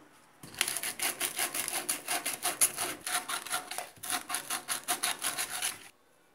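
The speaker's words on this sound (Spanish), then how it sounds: "A continuación realizamos una lijada previa antes de volver a utilizarlo." Rapid, rhythmic rasping strokes of sandpaper rubbing a PVC pipe surface, close up, back and forth for several seconds before stopping.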